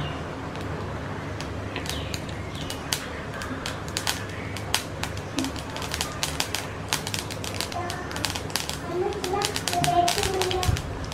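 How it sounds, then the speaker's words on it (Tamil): Mustard seeds splutter and pop in hot oil in a home kitchen, many sharp crackles scattered over a steady sizzling hiss, with a voice talking over them. "எண்ணெய் காஞ்சிருச்சு, அதில் கடுகு போடுறேன். கடுகு நல்லா பொரியட்டும்."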